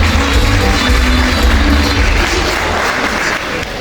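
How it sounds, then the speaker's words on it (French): Loud, dense audience applause at an awards ceremony, a continuous roar of clapping with low rumble underneath that eases slightly toward the end. "On a fini, encore une fois, sur vos applaudissements."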